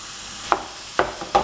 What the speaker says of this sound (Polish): Teraz już wrzucamy kurczaka,